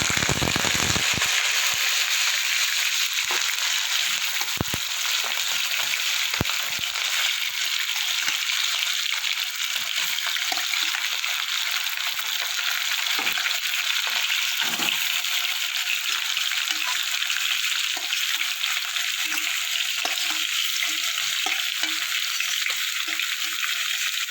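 Chicken fries in hot oil for a Bengali chicken posto, a steady loud sizzle with sporadic crackles and pops that continues throughout with no talking.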